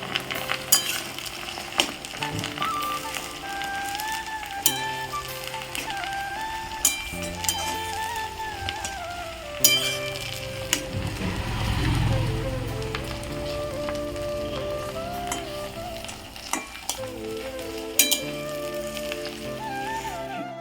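Homemade hair oil ingredients fry gently in oil over a low flame, a soft steady bubbling and crackling sizzle with a few sharper pops, under background music.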